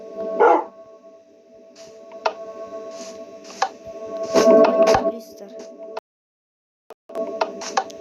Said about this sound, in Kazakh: Міне ол ит, кәдімгі ит.